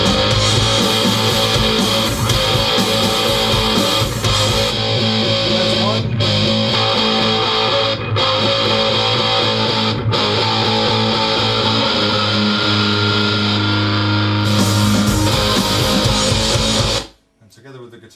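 Layered distorted rock electric guitar parts for a chorus, a thick continuous wall of sound with brief dropouts, loud and close, ending abruptly near the close.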